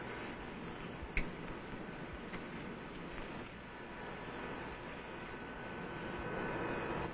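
A Lockheed Super Constellation's number 3 piston engine turns over on the ground, a broad, steady rumble with a sharp click near the start and a slight swell toward the end.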